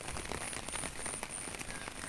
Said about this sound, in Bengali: এখনো পড়ছে বৃষ্টি